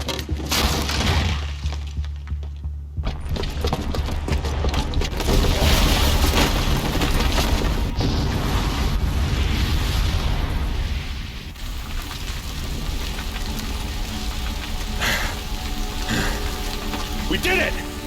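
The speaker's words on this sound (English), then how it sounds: "the booby trap on the bomb downstairs is gonna get set off" A bomb booby trap goes off in Horizon Zero Dawn, a loud sustained blast with crashing, shattering debris and a roaring rumble that carries on for many seconds, with voices under the din.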